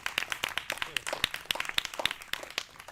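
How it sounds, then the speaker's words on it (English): Scattered audience clapping for a performer at an outdoor summer concert, individual claps distinct and uneven rather than a dense roar, fairly close and moderately loud. "So if you could just give him an applause again."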